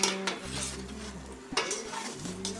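Chicken adobo with potatoes and soy sauce stirred in a pot, close metallic scraping and clinks of a spoon against the pot with a low hum underneath, in short bursts.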